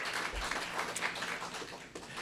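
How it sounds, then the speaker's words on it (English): A breakfast club audience gives a short round of applause, a dense wash of hand claps with murmured voices underneath, steady and moderately loud for a couple of seconds. "it does deserve a round of applause"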